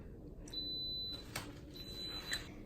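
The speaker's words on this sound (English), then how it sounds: "Now the 28-minute timer has ended." An Instant Pot pressure cooker sounds its end-of-countdown beep after a 28-minute cheesecake cook: a faint, thin electronic tone held for about half a second, then repeated more briefly, over quiet room noise.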